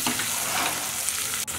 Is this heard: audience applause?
no